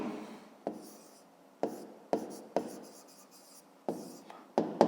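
A pen or pencil writes on paper up close in short, quiet bursts of scratching separated by pauses, each stroke starting with a small tap.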